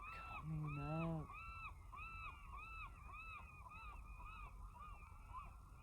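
Geese honk repeatedly outdoors at sunrise, a steady string of calls at moderate distance over a low hum. A brief hummed or sung tone rises near the start.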